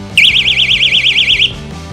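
A loud, warbling electronic fishing bite alarm shrills continuously for over a second, wavering up and down rapidly, then stops abruptly.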